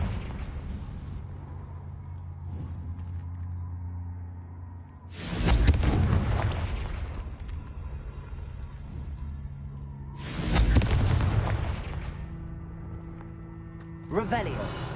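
Two heavy booming blasts from the Confringo fire spell in Hogwarts Legacy, about five seconds apart, each a loud close burst that rolls off over a steady game ambience.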